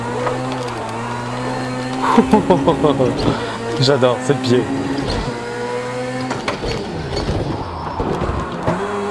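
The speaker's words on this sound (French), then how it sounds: "J'ai hâte de tester d'autres voitures de rallycross." Rallycross car in the racing game Project Cars 2, its engine droning and climbing steadily as it accelerates, sitting loud beneath someone talking excitedly in French throughout.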